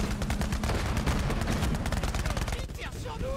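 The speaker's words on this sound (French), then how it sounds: "Il tire sur nous." Rapid bursts of enemy gunfire in the shooter game Borderlands 3, steady, dense and loud throughout, with players talking over the shots.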